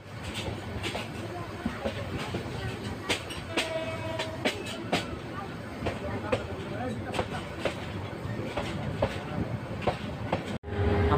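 The Kishoreganj Express rolls along with close, rhythmic clickety-clack of wheels over rail joints and a steady rumble. Horn blasts come through at times, with voices talking over the noise.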